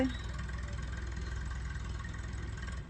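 A steady low tractor engine rumble runs throughout, close and continuous, like a heavy diesel idling with no clear changes in speed.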